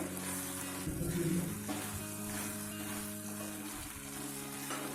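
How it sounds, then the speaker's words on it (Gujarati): Ragda, a potato and pea curry, is stirred in a pan as more peas are mixed in, giving a soft, steady bubbling sizzle with occasional scraping strokes at moderate volume. "હવે આપણો રગડો સરસ તૈયાર થઈ ગયો છે, તેમાં થોડા દાણા નાખીશું, મિક્સ કરી લઈએ।"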